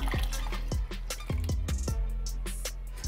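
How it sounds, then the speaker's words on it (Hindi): Water trickling and dripping into a jug of strained falsa juice pulp, with a run of distinct drips and splashes close by and no talking. "जग के अंदर फिर से पानी डालेंगे,"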